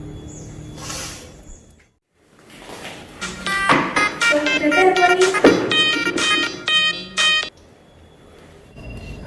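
A telephone rings nearby with a bright electronic ringtone melody that plays for about four seconds after a short quiet moment, then stops abruptly.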